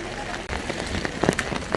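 Heavy rain pours over an open market in Nainital, a dense hiss with scattered sharper patters and splashes, close and steady.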